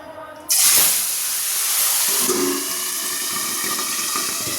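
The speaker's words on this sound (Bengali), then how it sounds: "কড়াই তেল গরম হয়ে গেছে, এবার মাছগুলোকে ভেজে নেব। প্রথমেই ট্যাংরা মাছ ভাজবো" Tangra fish hitting hot oil in a wok, a sudden loud hiss and spluttering crackle that bursts in and then settles into a steady, close sizzle.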